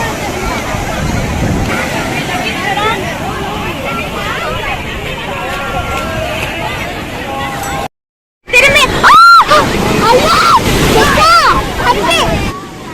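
Ocean waves wash onto a beach at Nagore, a continuous rushing surf under a busy crowd of voices, briefly cut off, then returning with louder shouting over the water.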